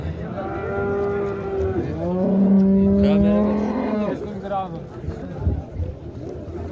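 A cow lets out a long, loud, drawn-out moo nearby, with crowd noise and talk around it at a busy outdoor livestock market in Boysun, Surxondaryo, Uzbekistan.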